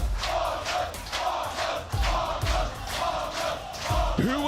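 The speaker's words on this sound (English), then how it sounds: "The Mongolian support has turned up like never before" Mongolian fans cheer for The MongolZ at a Counter-Strike world championship final in a Berlin esports arena, a loud, dense crowd roar with rhythmic chanting pulses surging roughly every half second.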